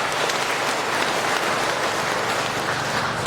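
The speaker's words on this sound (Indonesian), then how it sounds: "Tepuk tangan untuk Pak." Applause from an audience at a technical guidance session in Indonesia, a dense and steady patter of many hands that holds evenly for a few seconds without any voices on top.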